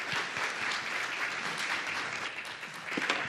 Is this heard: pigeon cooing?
no